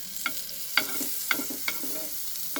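Bread toasting in butter in a very hot pan, giving a steady close sizzle broken by four sharp scraping taps of a spatula against the pan.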